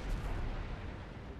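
A single muffled explosion booms low and heavy in the Mass Effect 3 game, a brief dull blast with no voices over it.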